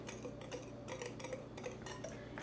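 Whisking dry muffin ingredients with salt and raising agents for pumpkin cream cheese muffins; light, quick ticking and tapping of the whisk against the bowl, steady and faint.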